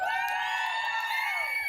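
Outdoor freedom rally crowd in Victoria, BC, letting out a short burst of cheering, with overlapping whoops and high yells from many voices close by.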